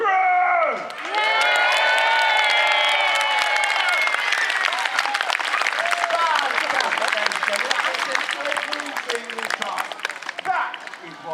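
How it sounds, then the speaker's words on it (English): A large outdoor crowd of men, women and children at Warwick Castle cheers, whoops and applauds the trebuchet crew, a loud sustained roar with shouts and clapping that stays dense throughout after a brief opening dip. "I want you to give the biggest cheer you ever have for the crew!"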